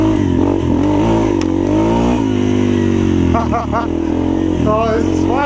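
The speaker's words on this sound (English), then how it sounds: "the bike is definitely louder right off the bat. So let's see how it runs." A modified, regeared and rejetted 2016 Yamaha TTR230 dirt bike engine running loud and close, a steady buzzing drone rising and falling as it revs, with a voice speaking over it.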